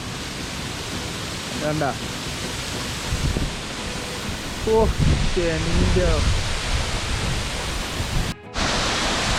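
A waterfall at Ottamala, Kanthalloor, rushes as a loud, steady hiss that fills the whole scene, while a few people speak briefly over it.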